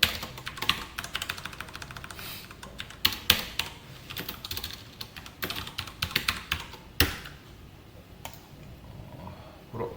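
Rapid, steady typing on a computer keyboard while an SQL query for MariaDB is entered, with dense clicking keystrokes and occasional louder key hits, close and clear with no talk.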